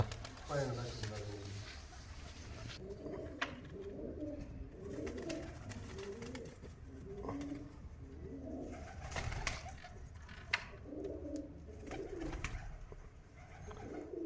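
Pigeons coo repeatedly in soft, rolling phrases throughout, with a person speaking over them near a cage and faint rustling in the background.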